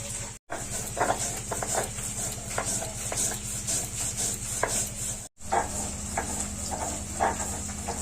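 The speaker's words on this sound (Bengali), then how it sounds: "পেঁয়াজ কলিটা ভাজা হতে হতে আমি পোস্তটা বেটে নিই।" Poppy seeds are worked into paste on a grinding stone for a cauliflower posto dish: a continuous rhythmic rubbing and scraping with a steady hiss, close by, broken by two brief silent gaps.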